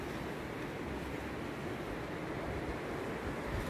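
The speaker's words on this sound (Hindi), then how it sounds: "ये पानी आ रहा है और यहीं से पानी देते हैं।" Irrigation water rushes through an apple orchard in Harshil during the rainy season, a steady broadband wash of flowing water that stays constant and fairly close, with no talk over it.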